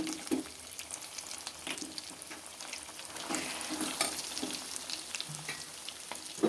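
Ginger-garlic paste sizzles and fries in hot oil for chicken pickle, a steady crackling hiss with occasional stirring scrapes, close and continuous with no talk.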